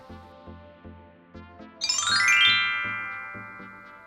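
A bright notification bell chimes once and rings out with a shimmering decay over a soft rhythmic music bed.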